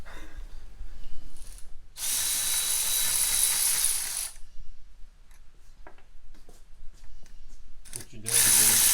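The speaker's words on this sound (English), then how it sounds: "Taking these racing bolts out." Bolts are being removed with a ratcheting or power tool during a 7.3 Powerstroke diesel water pump install, heard as two loud, sustained bursts of mechanical whirring separated by quieter clanks and handling noise.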